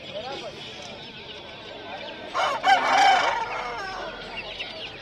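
Rooster crowing at a poultry market selling desi and breed chickens, one crow rising mid-clip over steady market chatter and people talking nearby.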